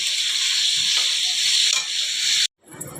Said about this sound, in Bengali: সব ভেজে নিয়ে ফ্রাইড রাইসটা মাখিয়ে নেব